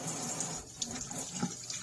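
Water runs steadily from an APPASO touchless kitchen faucet into a sink, a continuous hissing splash with slight fluctuations and no talking.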